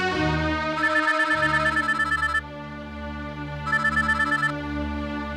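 A telephone rings in repeated electronic bursts, loud and close, with a brief pause between two ringing patterns, in a Bhojpuri film scene.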